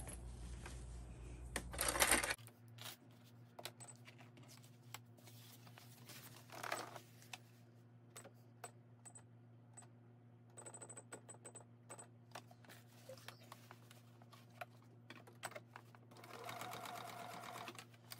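A sewing machine top stitches a 1/8 inch edge on a zippered pouch of lining and main fabric, running in one loud, fast burst at the start, then falling to quiet clicks and handling noises.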